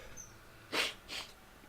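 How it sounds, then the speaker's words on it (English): Two quick sneezes from a person who has been unwell, a short close burst followed by a second, softer one, with no talking around them. "excuse me for sneezing and stuff"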